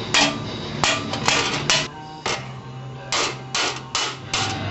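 Hammer and dolly work on a metal panel during body repair, a series of sharp ringing metallic blows, about eight strikes at an uneven pace, close and loud, with no talking.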